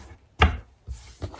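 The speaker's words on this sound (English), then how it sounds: "let me shuffle it a few times." A tarot card deck being shuffled, with a few separate soft riffling bursts close by, done quietly with gaps between them.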